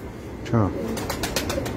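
A pigeon gives one short, throaty coo up close, followed by faint rustling and light background sounds.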